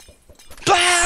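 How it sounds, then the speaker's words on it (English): Potion shattering and exploding in a racing video game: a sudden loud burst erupts after quiet murmur, then a bright sustained ringing, sizzling blast that holds steady to the end. "Potion explosion!"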